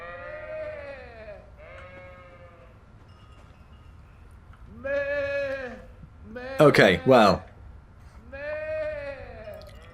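A drunk character in Kingdom Come: Deliverance bleats like a sheep, a human voice imitating it in several wavering, drawn-out baas with pauses between, plus a louder burst of sound in the middle; someone briefly speaks.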